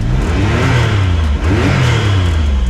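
A Can-Am Maverick X3 Turbo RR fitted with an RPM blow-off valve revs loudly in neutral, a steady close engine roar that surges up and down through the whole stretch with no talking.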